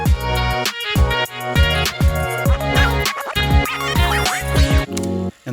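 Logic Pro vinyl scratch sample pitched down a semitone, playing as a loud, close loop of punchy scratches and bass-heavy hits over a beat, with no one talking.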